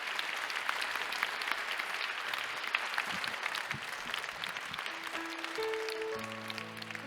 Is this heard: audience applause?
yes